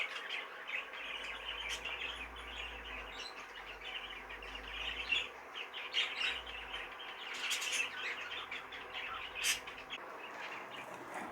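An opaline cinnamon light green hen, a young pet bird, chirps and squawks in short, scattered calls at close range, with faint background noise between them.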